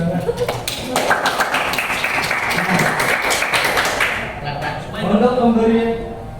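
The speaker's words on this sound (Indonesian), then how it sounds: "Tepuk tangan." Clapping from a classroom full of students, a dense burst of many hands lasting about four seconds before fading, with voices talking around it.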